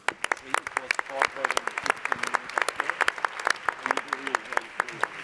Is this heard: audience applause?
yes